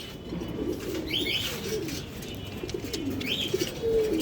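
Domestic pigeons in a loft, including black racers, black homas, musaldom and green chila breeds, coo in low rolling phrases that repeat steadily through the whole stretch, close and moderately loud, with a few higher chirps over the murmur and no talking.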